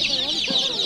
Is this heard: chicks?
yes